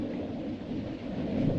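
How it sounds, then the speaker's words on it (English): A thunder sound effect from a 1935 film serial: a steady, muffled low rumble rolling on without a break, with the hiss of old film audio over it. "There's that thunder sound."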